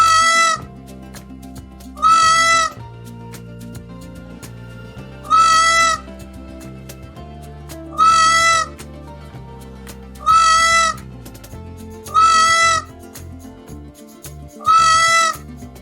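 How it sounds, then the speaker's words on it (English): A peacock gives seven loud, wailing, meow-like calls, evenly spaced about two seconds apart, over quiet background music. "Peacock sound."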